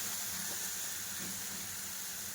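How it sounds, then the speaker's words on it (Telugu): Ginger garlic paste sizzling and frying in a pan for a curry, a steady, even hiss with faint stirring scrapes, moderately quiet and unbroken, with no voices. "అల్లం వెల్లుల్లి పేస్ట్ బాగా ఫ్రై అవ్వాలండి."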